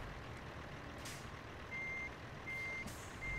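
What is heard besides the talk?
truck reversing beeps while parking in American Truck Simulator video game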